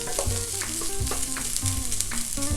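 Fried rice with onion, scallion and peas is stirred in a hot pan for a shrimp fried rice burger, a constant sizzle under repeated scraping strokes of a spatula, close and continuous, no speech.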